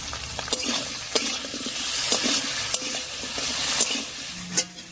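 Ground coriander, cumin and dried red chilli pastes being stirred in a hot pan for a sweet pumpkin curry: a steady oily sizzle broken by repeated scraping strokes of a spoon, close and fairly loud, with no voices.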